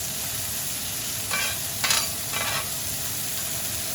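Onions on a grill during a smash burger cook, a steady sizzle with three short bursts of scraping as they are pushed aside, close and even in level.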